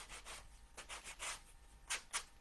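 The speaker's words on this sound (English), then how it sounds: "I'm just using a sanding block" A sanding block rubs a hardened rough edge smooth in a series of short, close, scratchy strokes, with two sharper strokes at the end.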